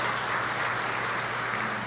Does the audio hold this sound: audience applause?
yes